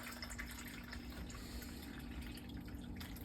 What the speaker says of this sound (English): I'm gonna shut the sea chest, because the sea chest is coming up through here. So it's draining back.